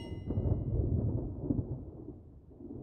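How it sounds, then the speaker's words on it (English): Low rumbling thunder rolls on for a few seconds, deep and muffled, gradually fading. "A storm's coming, Melodities."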